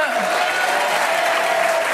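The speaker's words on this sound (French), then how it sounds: "Les deux jeunes femmes du jour, pour les applaudir" Loud, dense applause from the studio audience of a TV dating show, a continuous roar of clapping that fills the moment with a voice faintly underneath.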